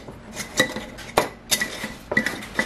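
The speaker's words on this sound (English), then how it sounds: "I cannot screw on a lid." A plastic lid grinds and clicks against a food prep container as someone struggles to screw it on, producing a few sharp, close clinks and rattles spaced unevenly over a couple of seconds.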